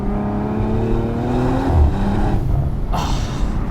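A 2023 Audi RS4 B9 with a 2.9-liter turbo V6 accelerates hard, its engine note rising steadily and close, with a brief turbo whoosh near the end and no talking.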